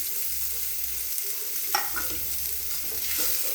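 A spoon stirs finely chopped cucumber and onion for a quick koshimbir salad in a pan, soft scraping and light sizzling texture, faint and close with no talk.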